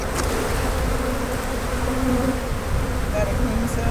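Honey bees swarming around an open, very strong hive during winter beekeeping, a dense, close, continuous buzzing drone that fills the whole stretch without a break.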